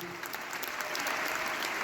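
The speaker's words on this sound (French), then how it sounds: "Le régisseur de la salle, Manu, on l'applaudit." Concert audience applauding steadily in a hall for a crew member being introduced, a dense, even wash of clapping throughout the short moment with no voices on top.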